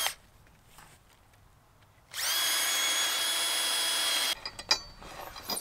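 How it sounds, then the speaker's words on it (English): A power drill spins up and bores through wood for a wooden gate bolt hole for about two seconds, loud and close, then winds down with a few clunks. "So drill just over halfway from each side"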